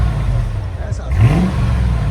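A Mercedes S55 AMG with a supercharged 5.5-litre V8 and resonator delete revs up, its exhaust note swelling and rising in pitch partway through, close by with people talking over it.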